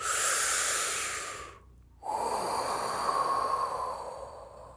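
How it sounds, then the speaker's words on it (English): Slow, deep breathing exercise: a long, loud exhale with a rushing hiss, a brief pause, then another long drawn breath, close to the microphone with no talking. "by breathing deeper, longer, slower, like this"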